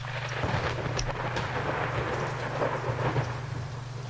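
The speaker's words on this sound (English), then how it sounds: "And the thunder." Low rolling thunder rumbles continuously under steady rain in the airport management game Airport CEO, filling the whole stretch at moderate loudness.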